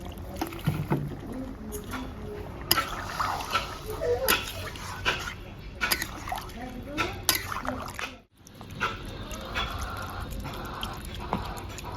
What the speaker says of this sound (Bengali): এবার কিন্তু জল দিয়ে দিন, জলটা একটু বেশি দিচ্ছি